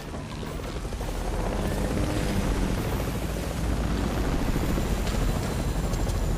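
Steady whirring rotor drone of a helicopter in the Fortnite video game, loud and continuous throughout with no breaks.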